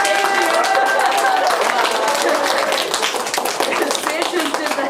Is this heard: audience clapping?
yes